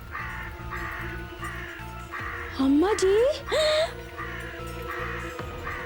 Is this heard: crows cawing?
yes